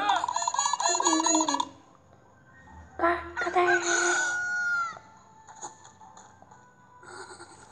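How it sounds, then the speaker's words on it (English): A rooster crows twice in a cartoon Bible story about Peter's denial of Jesus, each crow a loud, drawn-out call with a quieter gap between them. "When he heard the rooster crow"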